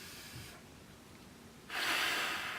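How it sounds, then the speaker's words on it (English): Sharp breaths during a seated wheelchair biceps curl: a soft, airy draw of breath, then a louder, rushing exhale near the end, close to the mic with no talking. "Breathe in, and then blow out."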